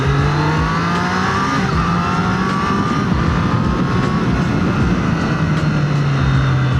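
Triumph Street Triple 765 motorcycle engine, loud and close, holding a sustained high rev with a rising and falling whine and no talk.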